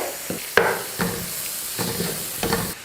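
Chopped beans are sautéed in a pan, with a few separate spatula scrapes and stirs over a low, continuous sizzle. Close and fairly quiet, with no voices.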